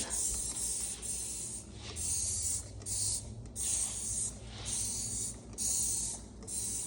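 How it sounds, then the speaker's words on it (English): Repeated hissing bursts from a spray bottle, about six in a steady rhythm, misting a glass stove top close by. "So what you do is just spray the stove"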